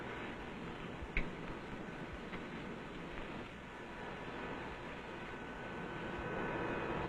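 A Lockheed Constellation's number 3 radial engine turning over at start-up, a steady droning rumble that swells slightly toward the end, with one brief click near the start and no voices.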